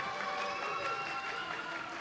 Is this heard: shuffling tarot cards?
no